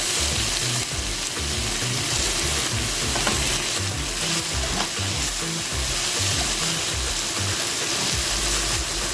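Onions sizzle and fry in a pan while being stirred, a continuous loud hiss and crackle with scraping stir strokes throughout, close and steady.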